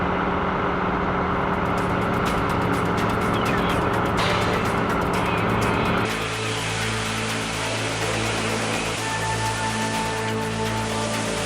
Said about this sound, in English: And I'll be backing my truck up to the pump there shortly.